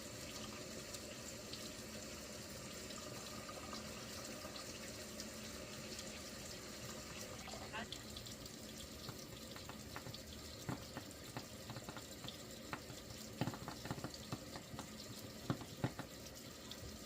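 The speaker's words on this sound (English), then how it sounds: "you'll hear that popping sound under the spigot with the hydrogen" Kangen water runs steadily from the machine's spigot, a continuous hiss and splash. Small crackling pops from hydrogen bubbles come through faintly and grow denser toward the end.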